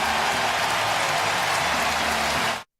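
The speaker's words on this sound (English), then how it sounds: "And listen to this crowd." A ballpark crowd roars and cheers in a steady, dense wall of noise as Rafael Devers hits a double during a Giants game against Cleveland, loud throughout before cutting off abruptly.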